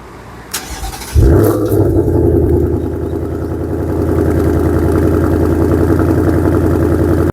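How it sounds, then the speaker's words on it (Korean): A 2025 Ford Mustang GT convertible's naturally aspirated V8 fires up with a sharp bark, then settles into a deep, rumbling exhaust burble that swells slightly, loud and close, with no talking. "GT 타시는 분들은 이 배기 사운드를 가장 좋아하십니다. 한번 들려드릴게요."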